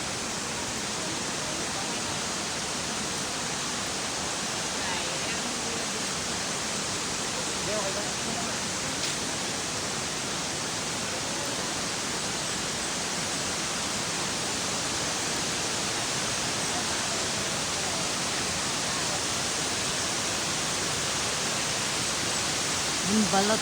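Mimbalot Falls pours as a steady broadband roar of falling water, loud and unchanging throughout with no breaks, like a constant hiss heard from close by.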